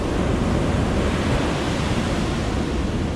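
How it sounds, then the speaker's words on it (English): Water pours steadily into a container outdoors on an island, a continuous loud broadband rush that carries unbroken for a few seconds with no talk over it. "this is full of water. So I'll pour it into here."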